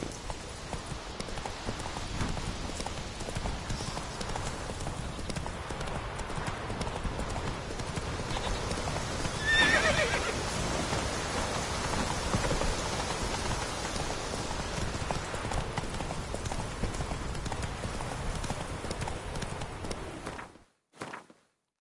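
Hooves of Roach, Geralt's horse in The Witcher 3 on PS4, clip-clop in a steady trotting rhythm, close and continuous, over a soft bed of rain, ending abruptly near the close.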